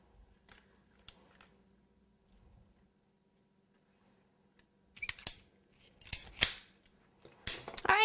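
Scissors snip through cake supports in several sharp, close cuts clustered toward the end, after quiet handling sounds and light taps.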